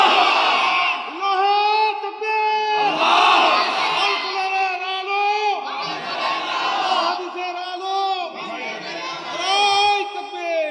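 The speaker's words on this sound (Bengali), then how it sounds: "দেন তাকবীর জোরে দেন।" A large crowd chants takbir, calling Allahu Akbar in loud repeated waves of massed voices, each swell rising and falling with a leader's shout between them.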